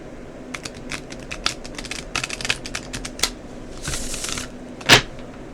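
Oracle cards are shuffled close by, a rapid run of light riffling clicks and flutters, ending with a louder sharp snap.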